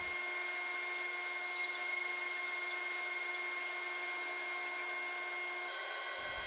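A power saw, likely a bandsaw, cuts a walnut turtle body with a steady droning whine that holds evenly at close range and stops abruptly at the end.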